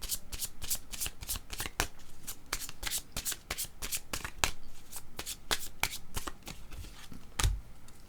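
A deck of cards shuffled for a card reading, with a rapid run of crisp riffling flicks repeating steadily and close up, no voices.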